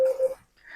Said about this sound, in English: That was the timer for the bacon.